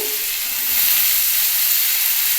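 Tomato and spring onion frying in a pan for spicy semolina, a steady loud sizzle and hiss that swells slightly partway through, with no talking.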